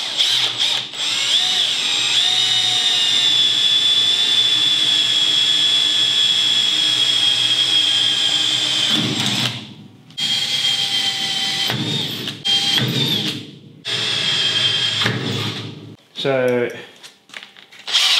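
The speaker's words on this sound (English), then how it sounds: "Just a small drill bit to start with." A power drill with a small bit boring pilot holes in cladding on a homemade camper trailer whines steadily at high pitch for several seconds, then runs in shorter bursts with pauses, close by, with a brief spoken word.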